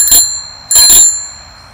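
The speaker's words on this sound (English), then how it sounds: "It's a bike bell." A bicycle bell rings twice in quick succession, bright and close, with nothing else sounding around it.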